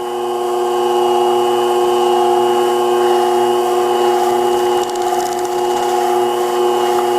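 A sharpening machine grinds a Bonika fishbone shear with light pressure, a steady loud whirring hum with strong sustained tones running unbroken throughout, close up and without talk.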